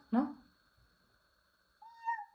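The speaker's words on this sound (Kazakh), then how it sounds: "Мысық." A toy cat gives one short electronic meow near the start, followed by quiet and then a brief synthetic tone near the end.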